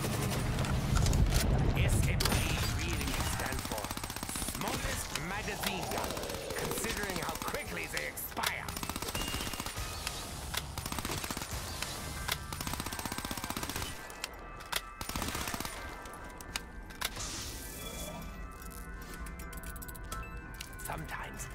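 Submachine gun fire in the Revelations map of Black Ops 3 zombies, with dense rattling bursts running through most of the stretch amid busy game noise, and a voice talking over it.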